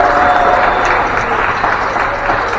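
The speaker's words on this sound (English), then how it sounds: "Big round of applause, please." An audience at a community volunteer-week celebration on Gardyne Campus applauds a food hub group, loud close clapping forming a thick continuous wash from start to finish.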